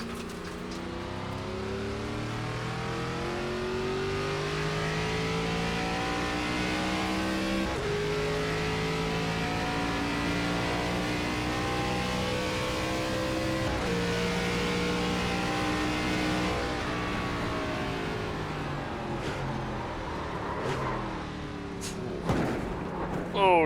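An ARCA race car in iRacing on an intermediate short track holds a sustained engine drone, its pitch rising and falling through gear changes and corners, with a few sharp clicks near the end.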